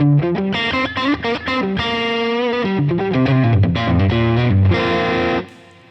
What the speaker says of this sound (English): Let's put the compressor, channel 1 of the dual fusion on, and the reverb